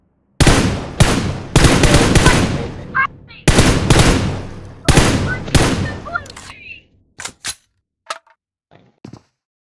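Loud bursts of automatic gunfire from the BGMI mobile battle royale game, several sustained volleys in the first half followed by short, sharp single shots spaced apart, with near silence between them.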